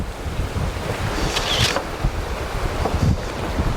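Sea waves wash and surge near a glass skywalk bridge that juts out over the sea at Khao Laem Ya in Rayong, Thailand. Continuous surf is mixed with gusty wind buffeting the microphone.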